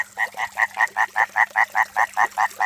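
Frogs croaking in a refilled garden fountain pond, a loud close run of about a dozen evenly spaced rhythmic croaks repeating rapidly without pause, with no voices.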